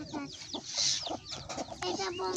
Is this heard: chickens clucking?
yes